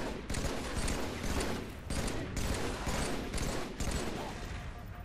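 Sustained enemy gunfire in Halo 3 on the Tsavo Highway level, dense overlapping bursts of automatic shots rolling continuously and loudly throughout, with no clear gaps between volleys.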